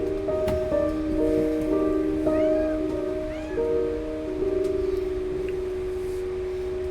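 A pet cat meows several times, short rising and falling calls laid over a steady hum of game music with sustained tones, the meows mid-distance and partly blended into the background.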